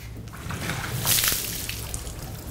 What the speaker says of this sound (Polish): dajmy tą wodę i pokażmy.